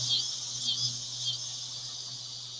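A constant high-pitched insect trill, like crickets, drones on steadily with slight wavering, plus a low hum underneath.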